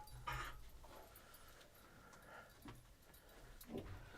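A pet dog pants and whimpers softly indoors, faint breathy bursts and small whines repeating over a few seconds with no talk.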